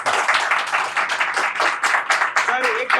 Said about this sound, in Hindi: एक बार तालियां हो जाए यार